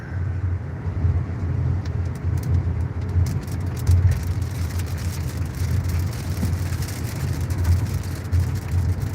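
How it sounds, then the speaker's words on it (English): Steady rain falling outdoors, a dense, continuous patter with a low rumble underneath and occasional sharper drops, fairly close and even throughout, no voices. "Here comes the rain."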